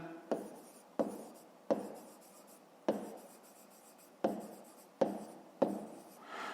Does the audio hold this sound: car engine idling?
no